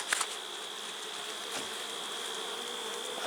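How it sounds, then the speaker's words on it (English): Honeybees buzz around a hive in a continuous, even drone, close and fairly loud, with a few brief nearer passes of individual bees and no voices. "These bees are pretty amazing critters"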